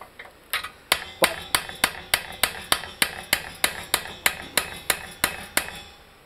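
A hammer taps a control arm bushing out of a VW Mk4, sounding as a steady series of about sixteen sharp, evenly spaced metallic strikes, close and clear.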